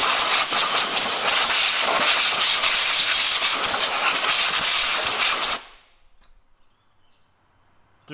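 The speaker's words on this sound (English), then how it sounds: "If you get some spilt brake fluid, just make sure you use some brake cleaner on the area." Brake cleaner sprays onto a Nissan NP300 brake in a loud, continuous, close hiss that cuts off abruptly after about five seconds, leaving near silence. No one speaks.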